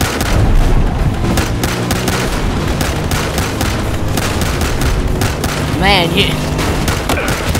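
Heavy gunfire rattles in Battlefield Hardline, loud rapid bursts of shots and booming impacts through the whole stretch while someone speaks over the shooting.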